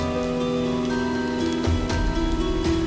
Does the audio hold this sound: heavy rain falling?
yes